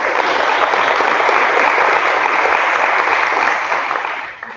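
A crowd at an evening political gathering claps loudly and steadily, a dense wash of applause that holds for several seconds before starting to taper off at the end.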